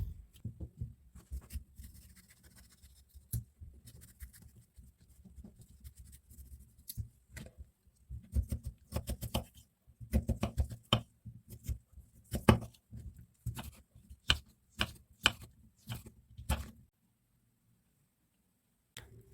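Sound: knife dicing fresh cucumber

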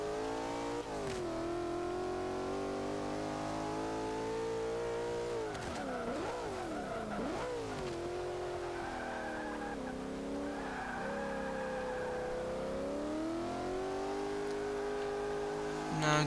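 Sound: sports car engine revving, video game

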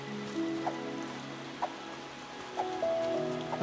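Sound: rain falling in the video game Luma Island

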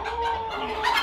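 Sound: Polish cap rooster clucking

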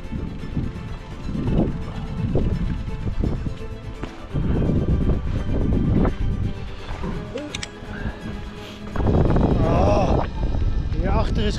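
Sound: headwind blowing while cycling near the Wadden Sea

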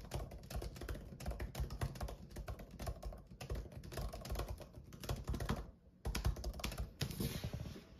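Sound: typing on MacBook Air M1 laptop keyboard

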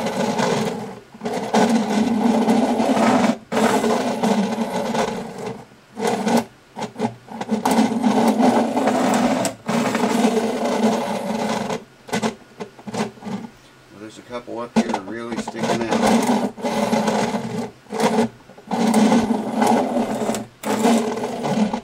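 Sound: rough leveling of guitar frets

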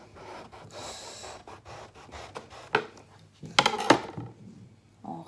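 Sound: slicing aubergine with a knife

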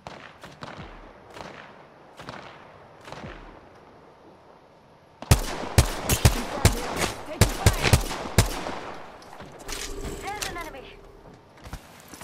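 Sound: gunfire in a video game

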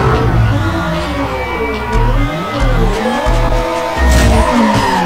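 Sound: racing car skidding in Need For Speed Underground Rivals video game

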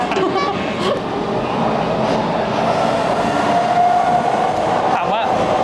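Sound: Los Angeles subway train riding

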